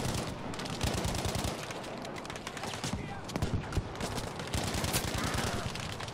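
Video game gunfire crackles in dense, rapid bursts of automatic fire, loud and continuous across the whole stretch, with shots overlapping into a steady barrage.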